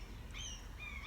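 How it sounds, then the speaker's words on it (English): Birds sing in the woods of Norway, giving a few thin, gliding chirps. They sound faint and distant over a low outdoor rumble. "Listen to the sound of the birds today."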